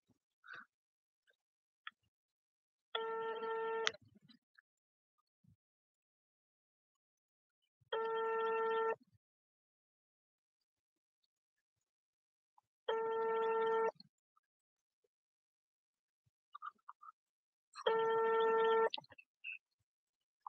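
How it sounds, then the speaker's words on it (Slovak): A telephone ringback tone repeats four times at steady intervals of about five seconds, each burst roughly a second long and clear, with near silence between rings. "Skúsim ešte raz zavolať."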